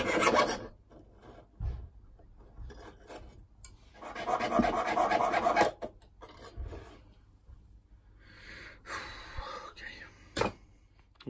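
Hand file rasping a small metal part to shape for a tower clock build, delivering several strokes in bursts of scraping, with a longer sustained filing run in the middle and quiet gaps between.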